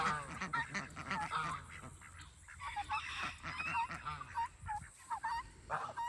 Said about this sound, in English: Those 2 ducks are huge, or geese are huge.